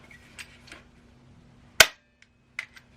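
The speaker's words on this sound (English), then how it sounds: "then you're loading this up with one, like this, and then you're gonna be shooting this one" A pump-action BB gun fires a single sharp, loud shot up close, followed by a couple of faint mechanical clicks.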